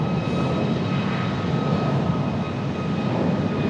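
Airplane taking off from a runway at Raleigh Durham airport, heard as a steady, loud, broad engine roar with a constant whine throughout.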